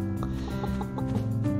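A golden chicken in the video game Pumpkin Days gives a quick series of short clucks over a steady background hum, with no talking.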